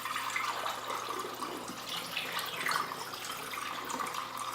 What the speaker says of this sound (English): you're just going to very carefully now pour